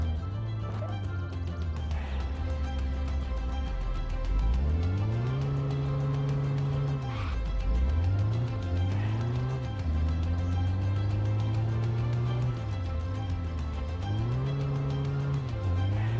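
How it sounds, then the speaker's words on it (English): Heavy car in Dinosaur Fossil Hunter video game, its engine droning steadily and rising and falling in pitch as it revs and shifts, loud and continuous with no talk over it. "This car weighs a lot. You can tell by the noises coming out of the engine."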